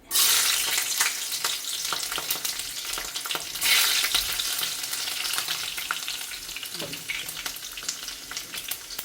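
Garlic hits hot oil for a dragon chicken gravy, giving a loud, steady frying crackle with a burst of sizzle early on and a second surge around the middle, alone without talk.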